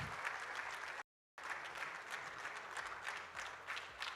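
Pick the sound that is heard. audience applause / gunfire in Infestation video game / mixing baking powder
audience applause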